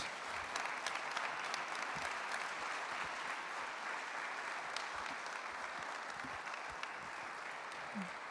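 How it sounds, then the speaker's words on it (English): Conference audience at a Novem corporate event giving a big round of applause, dense continuous clapping filling the room at an even level for several seconds, with a few sharper individual claps standing out. "please a big round of applause for Novem"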